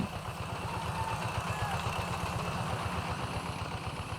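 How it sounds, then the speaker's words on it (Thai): A farm tractor preparing rice paddy fields runs with a steady, low rhythmic chugging, faint and somewhat distant, with no voices. "วันนี้เราเริ่มพบเห็นชาวบ้านนำรถไถดินออกมาปรับที่นา"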